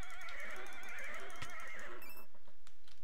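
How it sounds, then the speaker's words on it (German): Minecraft Hexxit horses whinny at night in a game world, giving one long, shrill, quavering neigh that fades out, followed by light ticking and clip-clop sounds. "wir besiegen einfach mal ein paar Pferde in der Nacht statt Creeper"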